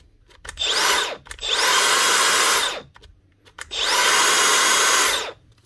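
A repaired Makita DGA463 cordless angle grinder, which had heavy internal damage, whirs up loudly in a workshop test run. It gives two sustained high-pitched spins, each winding up and then spinning down, with brief quiet gaps between them.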